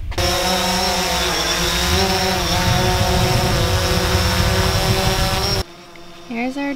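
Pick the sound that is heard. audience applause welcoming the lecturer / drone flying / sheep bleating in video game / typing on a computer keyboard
drone flying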